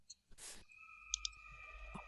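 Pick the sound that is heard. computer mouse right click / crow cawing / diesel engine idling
computer mouse right click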